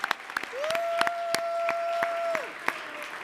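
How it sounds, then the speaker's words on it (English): A short burst of clapping at a council meeting, steady and moderately loud, carrying a sustained electronic tone underneath. "A big round of applause for Julie as well."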